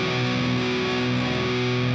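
A six-string guitar runs through a Mesa amp with a Tube Screamer overdrive pedal in front, giving a thick, saturated sustained tone that rings steadily and loudly for two seconds with no voices.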